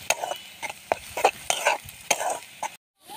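Spices and turmeric being stirred into hot oil in a pan for a spicy egg and garlic curry, quick repeated scraping strokes over a soft sizzle, close and alone, ending abruptly in silence.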